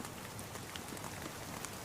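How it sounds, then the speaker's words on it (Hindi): Heavy rain pours steadily over a village, a dense, even hiss of drops with no pauses or voices, moderately quiet throughout. "गांव में भारी बारिश होने लगती है"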